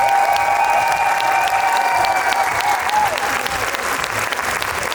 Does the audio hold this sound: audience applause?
yes